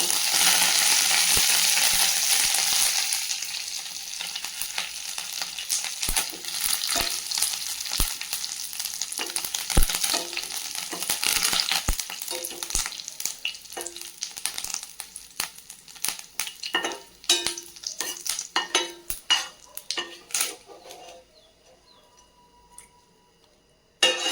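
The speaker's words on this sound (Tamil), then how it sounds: "அடுத்து அதே கடாயில் கருவேப்பிலையை பொரித்து எடுத்துக்கலாம்" Curry leaves frying in hot oil in a kadai, starting with a loud, dense sizzle that gradually dies down into scattered crackles and pops, with occasional stirring clinks, close up and with no talking.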